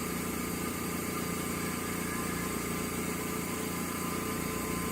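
A Laurell WS-400B spin coater spins steadily at 1000 RPM, a constant whirring motor drone with a faint pulsing hum and no change in level throughout, close and unbroken.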